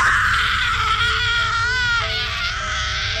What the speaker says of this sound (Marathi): पुन्हा एकदा किंचाळण्याचे आवाज येऊ लागले